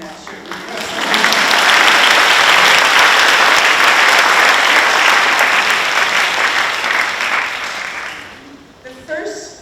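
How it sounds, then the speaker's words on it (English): Graduation audience bursting into sustained applause at a school ceremony, loud and dense clapping that holds steady for several seconds before tapering off near the end. "I'm going to give her a round of applause"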